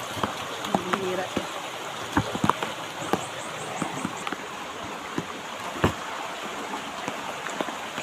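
Rain falls steadily outdoors, a dense hiss with scattered close drips and taps striking surfaces, and distant voices faintly underneath.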